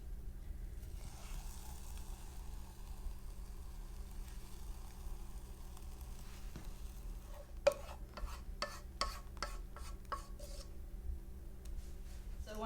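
Homemade ice cream mixture is stirred briskly in a container, soft scraping strokes coming in a quick regular series toward the end over a low steady background hum.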